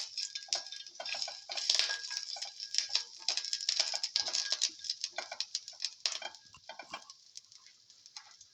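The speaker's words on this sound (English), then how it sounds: "saute the garlic" Garlic sizzles in a hot pan with salt, a dense, steady crackling patter of small pops carrying on without pause, close and fairly loud.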